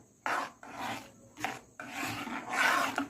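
A spoon scrapes and rubs through thick rice kheer mixture in a pot, in several separate rasping strokes with short pauses between them. The strokes are close and fairly loud, and no one speaks.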